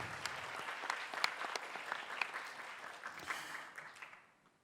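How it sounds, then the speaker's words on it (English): A conference audience in Bangkok applauds steadily at a closing ceremony, dense clapping at moderate distance that fades out toward the end. "And please give him applause."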